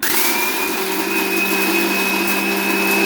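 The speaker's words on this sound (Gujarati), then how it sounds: "અને બધું મિક્સરમાં મિક્સ કરશું" A kitchen mixer grinder whirs steadily at full speed, grinding dates, jaggery and roasted chickpeas into powder in a continuous loud drone with no pauses and no voices.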